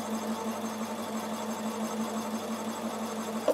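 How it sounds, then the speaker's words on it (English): A Bernina 7 series sewing machine fitted with a punchwork kit needle punches thread in a steady, even mechanical whir with a low hum, continuous and close, with no talking. "I'm just going to hold my thread and I'm just going to needle punch it"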